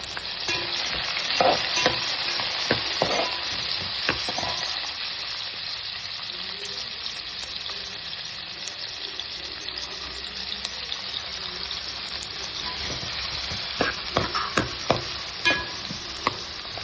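Ponnaganti greens with chickpeas and green chillies fry in a pan with a steady, loud sizzle throughout, while a utensil stirs and scrapes now and then, giving sharp clinks near the start and the end.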